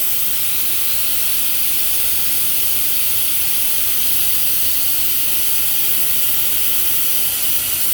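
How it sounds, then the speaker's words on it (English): Air rushing out of a caravan tire valve after the valve core is removed, a continuous loud, close, even hiss lasting the whole stretch without pause or talk. "Take it out, now all the air comes out."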